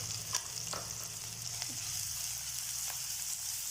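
Onions sizzling in oil left over from frying potatoes for stuffed capsicum gravy, a steady close hiss with a few faint spoon scrapes and no talk.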